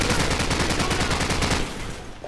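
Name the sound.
machine gun fire in Call of Duty 4 video game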